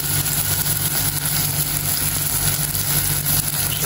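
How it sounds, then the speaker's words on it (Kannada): Masala frying in heated oil for a Mangaluru-style fish curry: a constant sizzling hiss over a low, steady humming drone, loud and unbroken throughout. "ಎಣ್ಣೆ ಬೆಚ್ಚಾಂಡು ಮಸಾಲೆ ರೆಡಿ ಆಗ್ತಂಡು"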